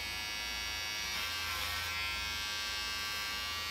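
Electric hair clipper finishing sideburns, a steady close buzz running continuously and alone with no talk.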